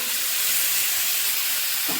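Ground curry paste of coconut, coriander, chilli and fennel hits a hot clay pot on high flame for Kerala-style crab curry, bursting into a loud, continuous steamy hiss and boil.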